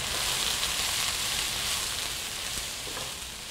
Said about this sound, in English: We're gonna let this saute for about 8 to 10 minutes or until the shallots become translucent.